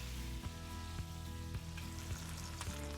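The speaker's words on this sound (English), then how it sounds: "I'll let it sear on the other side while I grab my spices." Pork searing in a hot pan after being flipped, a soft steady sizzle and crackle with a few light clicks and taps of cookware, quiet and close with no voices.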